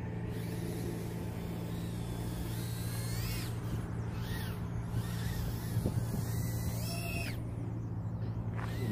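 An RC car running 0802 motors from a 75 Pro 2 drives with a steady high electric whine, and the pitch climbs and falls in several quick sweeps as it speeds up and slows down.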